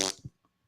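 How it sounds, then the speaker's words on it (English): A brief, close fart sound lasts under a second, ending with a faint low sputter, heard alone at the end of a sports talk show segment. "I like the fart at the end."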